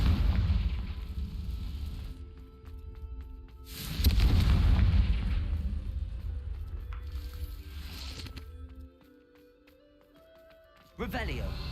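A Confringo blasting spell goes off in Hogwarts Legacy as a booming, rumbling explosion followed by crackling debris, with game music and effects around it.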